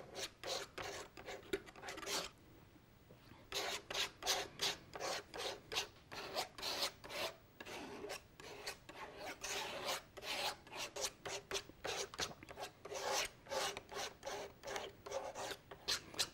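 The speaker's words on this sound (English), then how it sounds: "Scrape the knife over it now, just to take any high ridges of paint off." A painting knife scrapes over a layer of acrylic paint in quick, repeated rasping strokes, close but quiet, with one short pause near the start.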